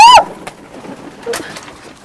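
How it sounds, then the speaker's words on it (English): Egyptian geese at feeding time, with a loud bird call at the start followed by scattered fainter calls and fluttering, shuffling movement close by. "We have to feed our Egyptian geese."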